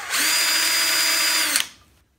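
A power drill spins a homemade shaper tool for space derby work, a loud steady whine running for about a second and a half before winding down and stopping, with no talking.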